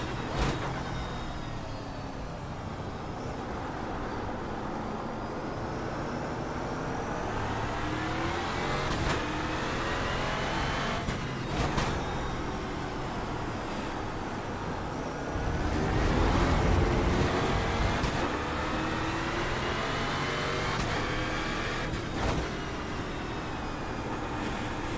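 Race car engine in a wet-weather Euro NASCAR sim, a continuous loud roar rising and falling through gear changes, with rushing spray noise and a few sharp shifts, no talk.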